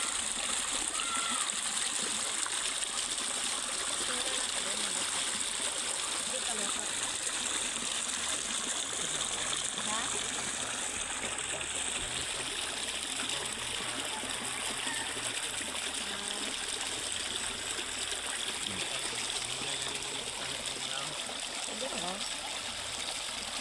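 Hot spring water flows and splashes steadily throughout while hands and feet are washed in it, a constant close rushing trickle with no break.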